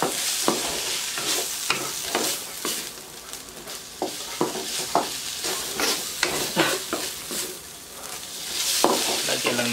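Lechon sisig stir-fried in a pan, with a steady sizzle of frying and repeated scraping and clacking of a utensil stirring against the pan, close and moderately loud, no speech.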